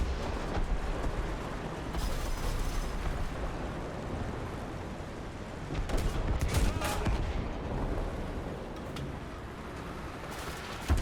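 Tank gunfire in War Thunder, a T-34-85 in play, with scattered shots and distant blasts over a steady rumble of battle, fairly quiet with occasional sharper bursts.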